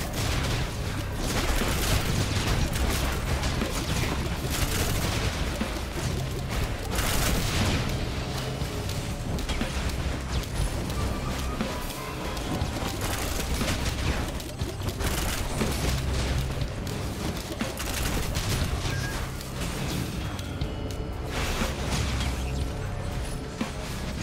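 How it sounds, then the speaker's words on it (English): Relentless artillery fire in the action game Risk of Rain 2, a thick stream of booms, impacts and mechanical clatter that continues without pause. "that artillery is nuts"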